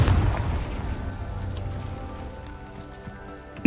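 In Hogwarts Legacy, a Confringo spell explodes with a deep boom that decays into a crackling, rumbling tail, with a faint sharp hit at the very end.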